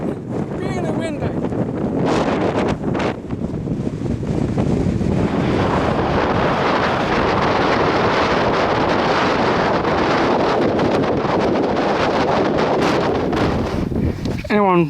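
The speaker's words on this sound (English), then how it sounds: "windy! Really windy!" Strong wind buffets the microphone on an exposed hilltop along the Pennine Way near the Cheviot, a loud, continuous roaring gust that barely lets up for the whole stretch.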